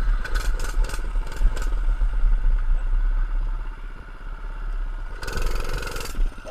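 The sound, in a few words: 105cc mini bike engine running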